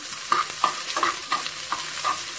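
Onion and green chillies are stirred while frying in a pan for a palak paneer gravy. A sizzling hiss runs throughout, broken by several close scraping stirs at a steady pace, with no talking.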